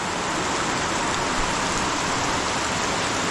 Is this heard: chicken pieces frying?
no